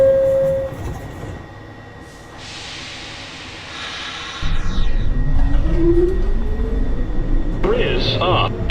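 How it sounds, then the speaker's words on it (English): A downtown local 1 train of the New York City subway pulls into a station, its rumble building from quiet to loud with rising motor tones and a brief horn-like squeal, an automated announcement voice heard over it. "Downtown Local 1 train approaching the station."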